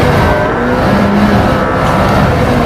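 A McLaren P1 sports car engine roars loudly and steadily at close range, a continuous powerful drone with slight shifts in pitch.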